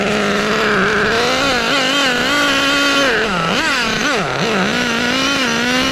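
An HPI R40 nitro RC car with an OS 12tr engine warms up, its loud, buzzy high-pitched whine holding a fairly steady idle, then wavering and dipping through several quick throttle blips before settling again, with no talking.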